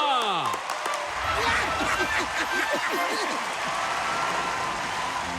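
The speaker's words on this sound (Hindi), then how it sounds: "तालियां!" An animated air show crowd breaks into lively applause, busy and steady throughout, mixed with cartoon sound effects and a short voice at the start.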